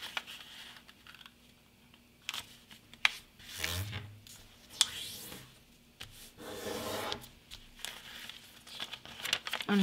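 Paper crinkling and rubbing while being folded into an origami alien, with soft creasing swipes and scattered sharp crackles close up, no talking.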